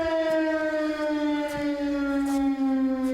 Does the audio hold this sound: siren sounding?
yes